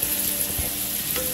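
Bacon-fried hominy cooking down in a pan gives a steady, close sizzle and crackle of frying, with a few faint stirring clicks and no voices.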